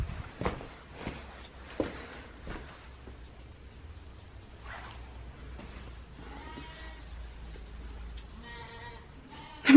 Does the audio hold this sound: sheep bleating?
yes